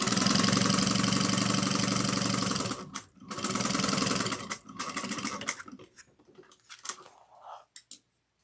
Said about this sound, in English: we're going to sew this up